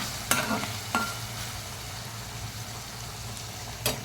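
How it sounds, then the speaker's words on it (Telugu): Ginger garlic paste frying in a pan gives a steady, close sizzle, broken by a few sharp clanks of a spoon stirring against the metal. "అల్లం వెల్లుల్లి పేస్ట్ వేస్తాను"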